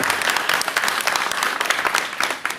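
Steady applause from a crowd, dense clapping sustained throughout before tapering slightly at the end.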